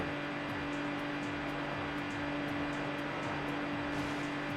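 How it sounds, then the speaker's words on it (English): A car engine strains hard at steady high revs, with a loud, continuous drone and a rhythmic pulsing underneath throughout, and no voices. "God, this engine sounds like it's about to explode."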